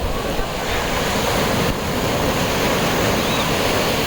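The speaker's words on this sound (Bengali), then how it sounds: "ঢেউ প্রচুর ঢেউ" Sea waves crash onto Kuakata beach in a continuous broad roar, with wind buffeting the microphone and brief swells in the surf.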